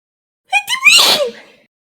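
A single loud, close human sneeze with a sharp intake and a bursting release, heard alone in a quiet room during a live tabletop game session.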